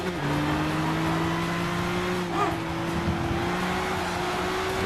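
Race car engine in Gran Turismo 6 drones steadily at high revs through the whole stretch, its pitch holding nearly level with a slight rise, a continuous close whine.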